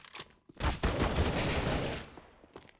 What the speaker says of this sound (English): Get the next headshot with Razor, and it's only Chris and Delicious.